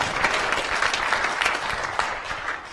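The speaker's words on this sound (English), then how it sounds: "Don't have to clap me for that." Audience applause at a London film premiere panel discussion, a dense, steady clatter of many hands clapping close by that holds throughout and thins slightly toward the end, with no talk over it.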